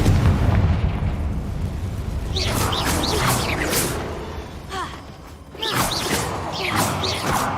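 Confringo blasting-curse explosions in Hogwarts Legacy during a hard-mode fight: two loud booming blasts with crackling debris tails, separated by a few seconds over a rumbling game backdrop.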